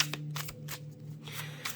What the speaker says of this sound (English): let's go ahead and get some shuffles